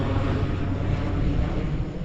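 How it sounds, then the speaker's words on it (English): An airplane passes overhead, a steady loud broadband engine roar that fills the whole stretch and fades slightly near the end, with no talking over it. "You gonna wait for the plane to go by and listen to it?"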